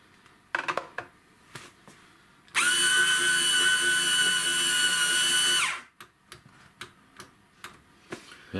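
A Gastroback Design Ice Shaver 42905 electric ice shaver grinds ice in one steady, loud whirring run of about three seconds, framed by close clicks and knocks of handling before and after.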